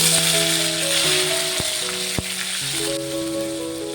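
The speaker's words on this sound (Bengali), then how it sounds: "ফোড়নটাকে আমি একটু ভেজে নেব" Cumin, dried red chillies, a halved bay leaf and chopped tomato fry in oil with a constant crackling sizzle and a couple of sharp clinks, while steady background music plays.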